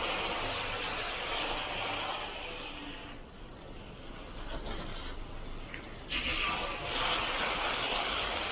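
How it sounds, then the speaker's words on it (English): Water spraying down a mountain bike during washing, a steady broadband hiss that runs continuously, briefly easing and then returning strongly, close and fairly loud with no talking. "Once you're done spraying down the bike"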